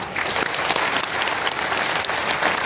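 An audience at a public event in Uttarakhand honoring the state's soldier welfare department breaks into loud, dense applause, a steady wash of many hands clapping close by with no speech over it.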